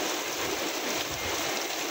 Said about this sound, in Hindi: काफ़ी तेज़ बारिश हो रही है